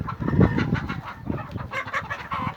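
Aseel roosters cluck and crow together near the coops, a busy flock of overlapping calls with a louder burst at the start and steady clucking after.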